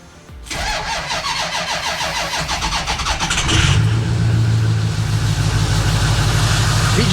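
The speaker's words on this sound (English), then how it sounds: "So let's fire it up, see how she does." A Ford 6.0 Powerstroke diesel V8, just back together after a timing cover replacement, cranks with a rapid whirring starter, then catches and settles into a loud, steady, rough cold idle, close by with no talking.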